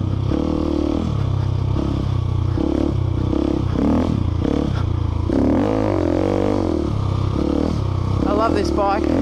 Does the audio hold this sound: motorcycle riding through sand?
yes